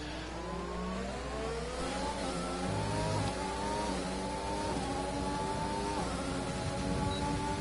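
Formula 1 race car engines in an F1 video game race at Canada scream continuously at high revs, pitch climbing through gear changes as one car runs in another's slipstream, loud and close with no talk.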